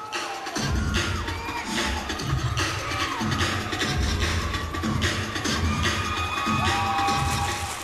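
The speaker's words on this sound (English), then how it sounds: "why did the audience suddenly start screaming?" A live show audience screams and cheers loudly throughout, a dense crowd roar with high shrieks and whoops rising and falling in waves.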